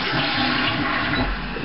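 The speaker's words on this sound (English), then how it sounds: "So basically, when you flush the toilet," A Japanese toilet flushes and refills, its water running through the hand-wash basin on top of the tank, a loud, close, continuous rush and gurgle heard alone.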